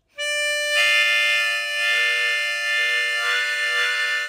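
Blues harmonica sounding an unwanted double note, a steady, bright, buzzy chord-like tone held alone for about four seconds with a brief softer onset.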